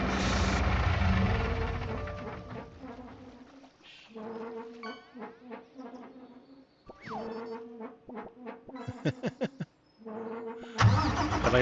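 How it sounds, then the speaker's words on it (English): Truck engine rumbling in the Farming Simulator 25 video game, a steady mid-pitched drone with revving shifts and intermittent mechanical rattles and clicks, loud and continuous throughout. "the truck drowns it out now. And this isn't, I don't consider this a loud truck."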